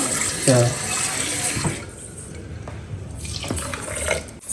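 Water pours and splashes into a pot for haleem at close range, a short gush at first and then a quieter trickle with faint clinks.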